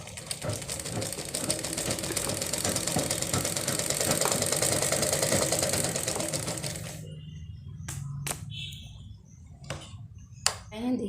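A sewing machine stitches continuously at stitch length 2.5, a dense rapid mechanical whir running steadily for about seven seconds before stopping, followed by a few sharp clicks and handling knocks in near quiet.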